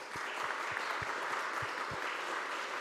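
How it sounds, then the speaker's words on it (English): Audience applause for the speakers at a conservative summit conference: a steady, dense wash of clapping from a room full of people that holds at an even level throughout, with no talking over it. "Please join me to applaud them."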